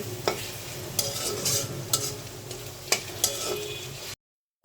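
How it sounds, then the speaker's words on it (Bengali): Prawns frying in oil in a pan, stirred: a steady close sizzle broken by several sharp scraping knocks of a spoon at irregular intervals, then a sudden cutoff to silence. "চিংড়ি মাছটা দিয়ে দিলাম, তেলের উপর একটু ভাজি করে নিচ্ছি"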